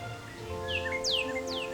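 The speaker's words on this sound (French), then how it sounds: "Ce bruit de chant, de gazouillis et d'appels, ce battement d'ailes, c'est la mélodie d'un monde en bonne santé." Several birds chirp and call in a rising, sweeping series of bright notes over a steady background hum, with no wingbeats clearly standing out.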